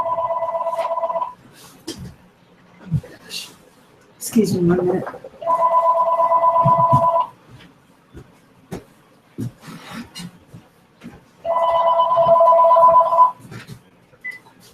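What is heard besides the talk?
telephone ringing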